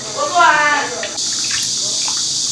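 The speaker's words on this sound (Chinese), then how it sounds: "把猪耳朵洗一下。" Tap water runs and splashes while a freshly cut pig's ear is rinsed under it in a home kitchen, a short close gush followed by a steady stream.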